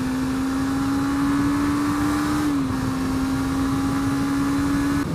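Suzuki GSX250R motorcycle engine, a 2017 250cc A2-licence bike, holds a steady high-pitched drone at speed with one small dip in pitch midway, heard from the rider's position over constant wind noise.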